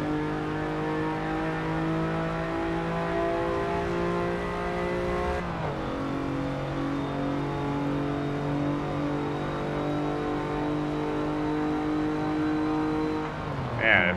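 Chevy Colorado racing in Forza Motorsport 7 at about 130 mph on the front stretch. The engine drones close and steady at high revs, with one gear change midway and the pitch climbing steadily afterward.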